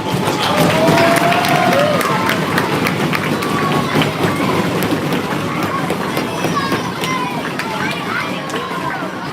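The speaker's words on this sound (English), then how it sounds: "they deserve a massive round of applause for putting this on" A crowd at a youth hockey year-end banquet breaks into sustained applause and cheering, loud and dense throughout with crowd chatter mixed in.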